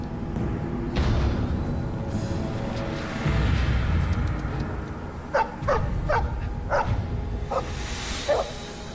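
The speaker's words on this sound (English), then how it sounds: "Puppy!" Dog barking in the video game Dragon Age: Origins, a run of short, sharp barks in an uneven rhythm late in the stretch, heard over a steady game ambience with some rumble.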